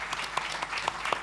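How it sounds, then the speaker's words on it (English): A short burst of audience applause for plenary panelists at a conference, many hands clapping in a steady patter of sharp, bright claps. "This is your applause."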